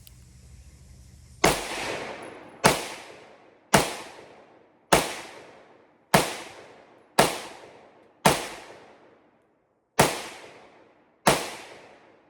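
Nine loud, close shots from a Zastava M57 pistol fired one-handed, spaced about a second apart with a longer pause near the end, each ending in a short echoing tail.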